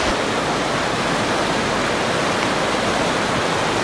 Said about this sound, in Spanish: Pero vamos a mostrar un poquito el río.